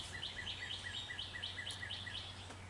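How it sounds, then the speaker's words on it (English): A bird sings a quick, repeated two-note chirping phrase outdoors, fairly faint, over a low steady hum. "Listen to the sound of the birds"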